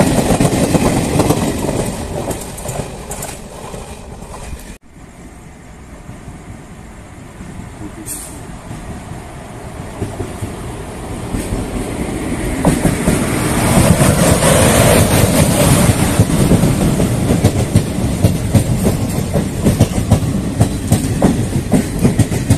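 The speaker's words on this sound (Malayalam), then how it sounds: "ഇനി ട്രെയിൻ വരാൻ വേണ്ടി നോക്ക കാത്തേക്ക" A passenger train pulls into a railway station at Ernakulam, its heavy rumble and clickety-clack wheel clatter growing louder and nearer over about twenty seconds after a brief lull, with a voice faintly present.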